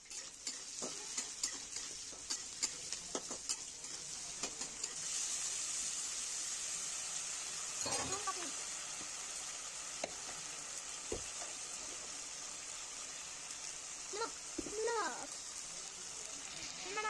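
Onion and garlic frying in hot oil in a pan, a quiet steady sizzle with occasional stirring scrapes and clicks, heard alone without talk.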